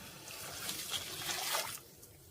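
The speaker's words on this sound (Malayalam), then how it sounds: "ഇനി നമുക്കിതിലേക്ക് നമ്മൾ അടിച്ചു വെച്ചേക്കുന്ന തേങ്ങാപ്പാലുണ്ടല്ലോ, അത് ഒഴിച്ചു കൊടുക്കാം." Coconut milk trickles into a pan of ash gourd curry, a soft close pouring splash that builds for a couple of seconds and then cuts off.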